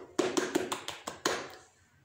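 Children clap out the Pramuka scout rhythm in a classroom: a short run of sharp, fairly quiet hand claps in an uneven pattern, a few quick ones and then a final clap that fades out.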